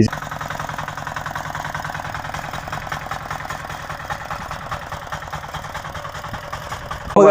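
A diesel engine on a farm weeding machine idles throughout with a constant low rumble and rhythmic knocking, running unchanged and fairly close for the whole stretch.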